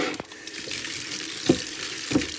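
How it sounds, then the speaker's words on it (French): Water splashes and trickles as salted duck breast meat is rinsed by hand in a basin, with a few louder sloshes near the end. "On va le bien laver. On lave notre viande."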